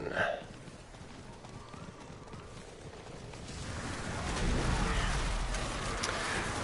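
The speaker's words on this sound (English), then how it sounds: "Let's put on our horse and get riding." A mounted horse in Diablo IV gallops with steady clip-clop hoofbeats that grow louder midway, while someone talks over the riding.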